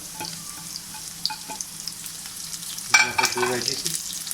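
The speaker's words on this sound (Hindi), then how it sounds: "इसको मैं तेज़ आंच पे तकरीबन 3 से 4 मिनट तक भून लूँगा" Chilli chicken with ginger and garlic frying on high heat: a moderate sizzle with light stirring clicks, then a sudden louder hissing surge partway through that stays busy to the end.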